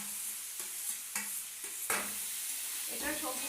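Grated carrot and cauliflower with turmeric and sugar fry in oil in a pan under a constant sizzle, with several scraping stirs and a few soft knocks against the pan.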